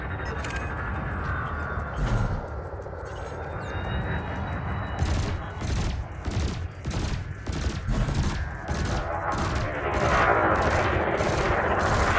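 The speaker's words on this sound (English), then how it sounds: "your burst laser is a thermal weapon, which excels at stripping away a target's shields" Burst lasers fire from a ship in the Elite Dangerous space game, rapid repeated zapping pulses, loud and close, that start partway through and keep going in steady volleys over a low rumbling hum.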